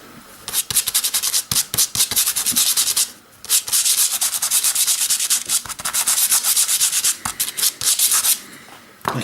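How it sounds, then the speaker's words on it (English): A dry brush rubs paint over model railway brickwork on a retaining wall, giving a loud, continuous scratchy scrubbing made of rapid back-and-forth strokes, with one short pause near the start and no talking. "you're basically using a dry brush, and then all I do then is rub over"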